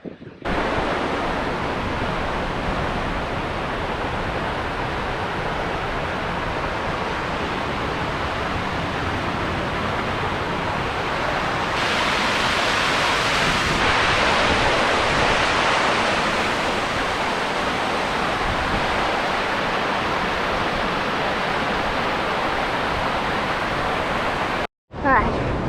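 A waterfall roars inside a rock hole at its source on New Zealand's South Island, a dense, loud, unbroken rush of falling water close by that fills the space for the whole stretch.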